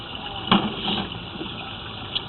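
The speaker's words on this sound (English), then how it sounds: "With the water running, you can see the pipe's at least half full" Water runs through a half-full main sewer line pipe with debris buildup, a low steady gushing flow with a couple of brief louder splashes.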